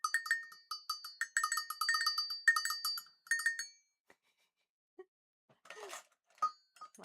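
Handheld cowbell jingled in quick irregular bursts of bright metallic clanks for about three seconds, then a few isolated clinks and soft handling noises.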